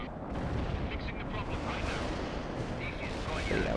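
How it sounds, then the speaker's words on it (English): Airstrike explosions in the World in Conflict strategy game, a dense continuous roar of booming blasts and rumbling artillery-like fire, loud throughout with no pauses. "we're just gonna keep on dropping airstrikes"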